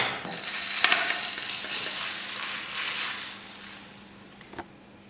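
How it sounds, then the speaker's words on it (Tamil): Black pepper, dried red chillies, cinnamon, cardamom and cloves shift and rattle in a dry pan as they roast, a soft continuous scratchy hiss with a couple of sharper scrapes, close and fairly quiet. "1/2 ஸ்பூன் மிளகு, வரமிளகாய் 8, 1 துண்டு பட்டை, 2 ஏலக்காய், 2 கிராம்பு. இப்போ இதை வறுத்துக்கலாம்."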